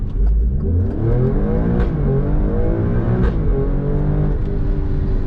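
A 510 bhp Alfa Romeo Stelvio Quadrifoglio engine revs up and pulls hard, rising steadily in pitch as it accelerates, loud and close with no talking.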